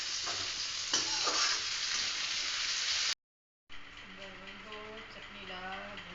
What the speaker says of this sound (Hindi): चटनी ला भून रही हूँ